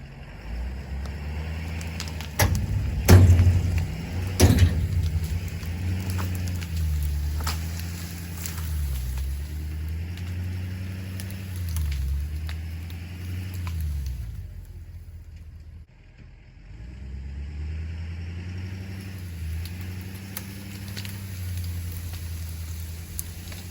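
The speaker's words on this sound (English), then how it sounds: "We'll see if the truck can pull it out of here, or do I have to cut it into pieces." Truck engine straining as it pulls a log out with a logging chain, a loud low rumble rising and falling in repeated surges, briefly dropping away before resuming, with a few sharp knocks near the start.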